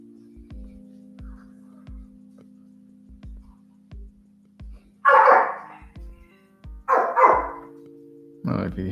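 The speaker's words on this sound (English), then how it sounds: "I don't know if you hear my dogs acting up now." Dogs break into several loud, close barks in short bursts, interrupting a quiet indoor scene with steady soft ticking clicks.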